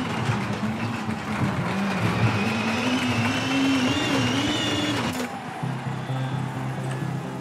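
Rally car engine in WRC 8 holds a steady, loud drone with a rising and falling pitch through a stage, then drops to a lower rumble near the end.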